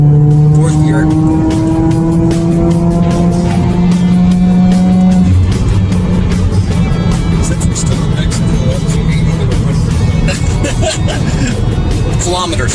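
A tuned 2017 Subaru WRX engine pulls steadily in fourth gear, a loud continuous drone with a rising tone heard from inside the car, while someone talks over it.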